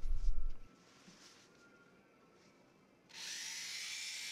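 A rotary tool fitted with a triangle of sandpaper taped to its rubber end polishes the frets of a Warmoth guitar neck. A brief low thump and near silence give way to a steady, close, high-pitched whirring grind.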